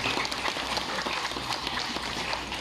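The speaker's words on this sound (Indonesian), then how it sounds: "Tepuk tangan untuk pemerintah Indonesia." Audience at an Indonesian religious lecture in Saudi Arabia breaking into dense, crackling applause, many hands clapping close and continuously with no speech.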